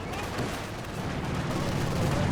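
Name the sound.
Mosin rifle volley in a WWII strategy video game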